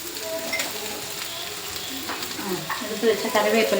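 Curry leaves crackle and sizzle in hot oil, a steady dense frying hiss with stirring scrapes, growing louder and busier toward the end, close and continuous with no talk.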